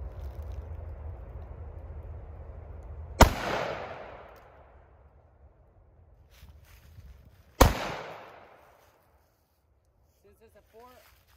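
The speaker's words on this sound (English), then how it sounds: "Shotgun shells, the pellets are going everywhere, so we can get a little closer." A Taurus Raging Judge Magnum stainless revolver with a 6.5-inch barrel fires shotgun shells outdoors: two loud, sharp booms several seconds apart, each trailing into a rolling echo, with a faint voice near the end.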